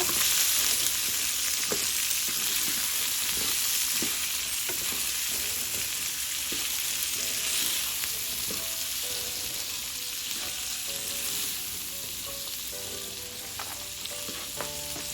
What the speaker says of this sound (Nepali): अब यसलाई यसरी चलाउँदै केही बेर पकाउनु पर्छ